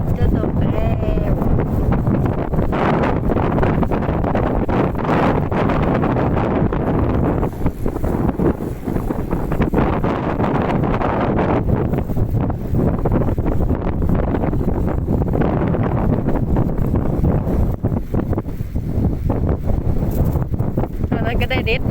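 Strong wind buffeting the microphone during rainy-weather fishing at a waterside spot in Lopburi, Thailand, a loud continuous roar with gusty surges across the whole stretch.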